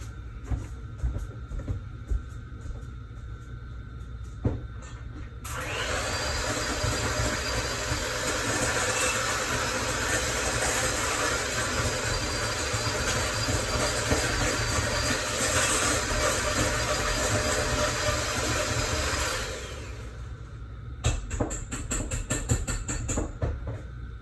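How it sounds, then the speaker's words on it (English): An electric mixer whirs steadily for about fourteen seconds, beating keto earthquake cake batter on a kitchen counter, starting abruptly and cutting off, with quieter clatter and handling noises before and after. "I'm going to run over here to my other counter where I have my mixer plugged in."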